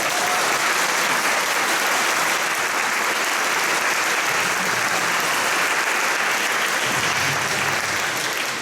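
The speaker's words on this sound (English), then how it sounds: "And you may applaud the candidate now if you like." Sustained audience applause at a county sheriff candidate debate, a dense, steady wash of many hands clapping throughout with no talk over it.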